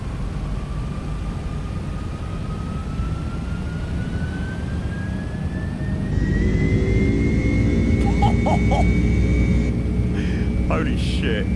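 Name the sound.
MD-11 jet engines at takeoff thrust, from a flight simulator game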